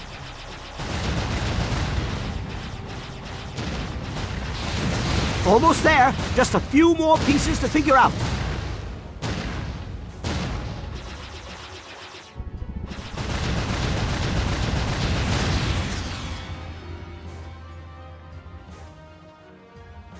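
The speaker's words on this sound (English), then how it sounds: "Lots of explosions." Explosions and gunfire-like blasts burst repeatedly during a flying sequence in the video game Jade Empire, loud and dense under a speaking voice.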